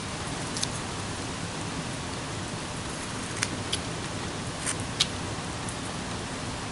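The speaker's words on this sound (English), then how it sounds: "Now it's starting to rain a little bit, so what you're hearing is a little bit of rain," Steady light rain hisses evenly, with a few sharper drips tapping now and then close by.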